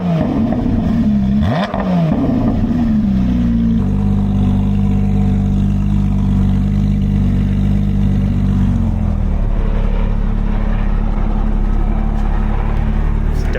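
A Porsche GT4 RS with a full titanium valvetronic exhaust, valves closed, gives a loud close-up blip and then settles into a steady deep drone, the pitch dropping slightly near the end.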